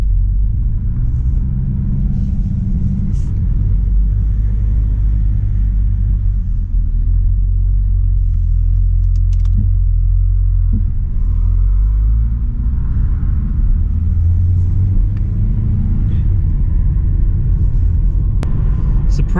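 A damaged Pontiac G5 bought cheaply at a salvage auction is driven, with a loud, constant low engine and road rumble heard from inside the car, swelling slightly as it gathers speed, with no talking.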